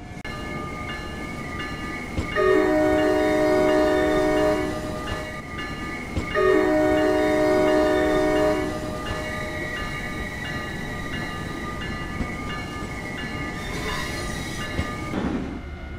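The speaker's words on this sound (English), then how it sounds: "That sounds really good, that horn." Amtrak Acela train horn blows two long loud blasts about four seconds apart over a steady rumble of the moving train, with rail noise continuing afterward.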